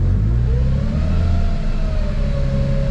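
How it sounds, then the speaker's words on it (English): A BMW E90 with an N54 single-turbo engine revs up at close range, its pitch climbing steadily and then holding over a loud, continuous engine drone. No one talks. "I'm just gonna rev it a bit and just make sure the high pressure fuel pressure does jump up"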